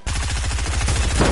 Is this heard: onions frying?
no